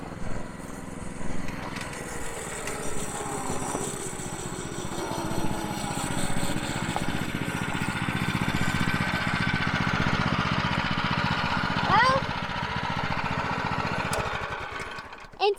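Restored small minibike engine running with a buzzy, uneven putter that rises and falls in revs, fairly close and steady, fading near the end.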